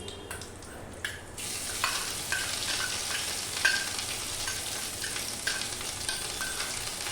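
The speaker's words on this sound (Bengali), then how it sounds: "কালো জিরে আর শুকনো লঙ্কা দিয়ে একটু আদা দিয়ে দেবো।" Ginger sizzling in hot oil in a pan with black cumin seeds and dried red chillies, a steady close crackle with occasional stirring clinks and no talk.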